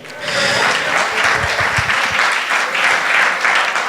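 A church congregation applauds the Lord during a Spanish-language sermon service, steady dense clapping from many hands filling the room for a few seconds without interruption.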